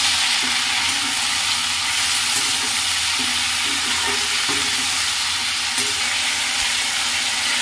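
Beans and onion fry in a pan seasoned with turmeric and salt, giving a steady, dense sizzle with occasional soft scraping stirs, heard close and without any talking.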